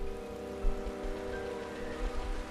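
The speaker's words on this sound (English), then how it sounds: "it's raining." Rain falls in Final Fantasy 12 Zodiac Age as a soft, steady patter beneath sustained tonal game music, low in level.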